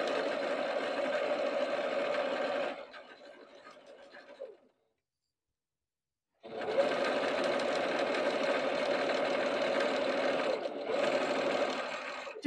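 A sewing machine runs a straight stitch through fabric for a Christmas stocking with fur trim, a close steady mechanical whir in two long bursts separated by a brief slower stretch and a pause.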